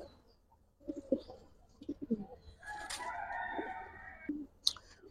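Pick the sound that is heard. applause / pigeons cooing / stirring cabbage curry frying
pigeons cooing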